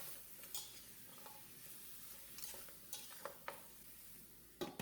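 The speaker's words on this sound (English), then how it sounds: "Add our meat and let this saute for a couple of minutes." Meat sautés with onions and garlic in a pot for Guyanese pepperpot, a soft, quiet sizzle with several sharp utensil scrapes and clinks as it is stirred and tossed.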